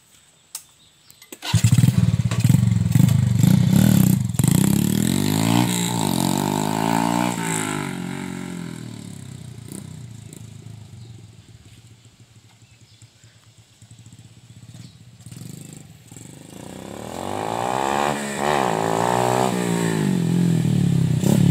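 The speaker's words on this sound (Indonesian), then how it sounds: "ya tarikannya motor ini setelah saya menggunakan kabulator Honda Grand" Yamaha Vega motorcycle fitted with a Honda Grand carburetor starts and revs up loudly nearby, its engine note rising and falling through several throttle blips before easing to an idle and climbing again.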